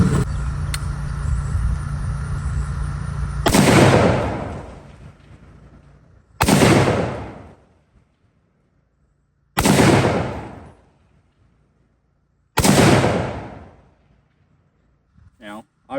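A Remington 742 Woodmaster semi-automatic rifle chambered in 30-06 fires four loud, booming shots spaced a few seconds apart outdoors, each with a long decaying echo, after a stretch of talking.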